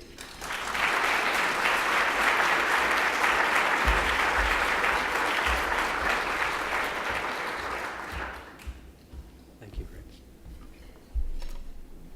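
Audience at a public leadership dinner applauds the dean walking to the podium, dense sustained clapping for about eight seconds that then fades out, followed by a few thumps and faint room noise.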